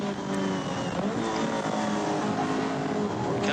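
1981 Toyota Celica race car at Bathurst climbing Mountain Straight, its engine a steady, continuous in-car roar holding throughout.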